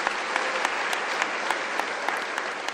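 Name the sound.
audience applause at university closing ceremony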